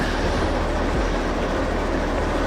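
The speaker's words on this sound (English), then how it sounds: "You can see that the last of our train has exited that bend." Steady rumble of a train rolling on rails in the railway simulator Derail Valley, a continuous loud broadband roar with low rhythmic wheel thumps and no voices.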